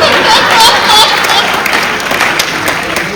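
An audience at a Hindi poetry gathering (kavi sammelan) applauds steadily, with a dense spread of clapping that continues throughout and a few faint chuckles mixed in.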